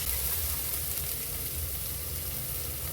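Asafoetida, cumin seeds and green chilli paste sizzle in oil in a pan, a steady, fairly quiet frying hiss that holds for several seconds.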